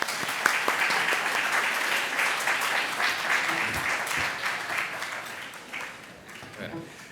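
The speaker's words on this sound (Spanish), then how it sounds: "Un aplauso para él," A university lecture audience applauds to welcome a Columbia University architecture professor, a dense sustained clapping that fills the room and slowly thins toward the end, with faint voices beneath it.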